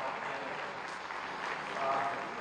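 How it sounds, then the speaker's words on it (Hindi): An audience at a Sindhi community convention in Lucknow applauds to welcome the Chief Minister, a steady wash of distant clapping, with a faint voice rising briefly. "हम लोग जोरदार तालियों से उनका स्वागत"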